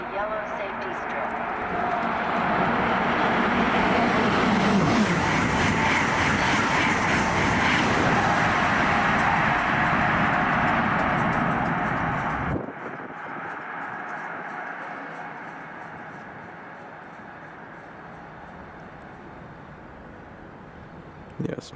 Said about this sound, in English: There's the NextGen Acela, number 2169, Kingston, Rhode Island.